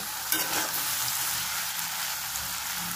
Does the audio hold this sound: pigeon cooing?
no